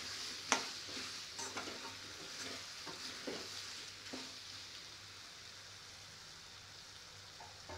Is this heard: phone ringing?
no